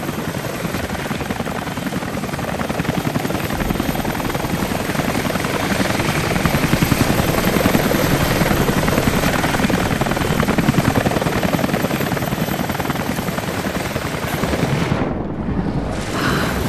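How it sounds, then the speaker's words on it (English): Helicopters in the video game Rise of the Tomb Raider, a loud, continuous rotor thrum that chops steadily and holds close, with possible bursts of gunfire mixed in and a brief dip near the end. "Packing up the choppers."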